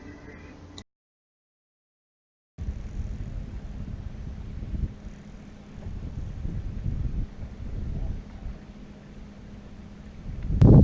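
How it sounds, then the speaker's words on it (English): Wind buffets the microphone out on a lake during boat trolling, a low, rough rumble that comes in uneven gusts, with a short dropout early on and a loud blast right at the end. "the wind came up in the last few minutes, and hopefully this will make the fishing better"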